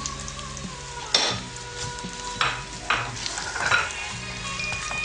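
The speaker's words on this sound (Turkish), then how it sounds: "Şeffaflaşana kadar kavuruyoruz." Half-moon sliced onions sizzle and crackle steadily in hot oil as they fry until translucent, with occasional louder spatters and the scrape of stirring in the pan.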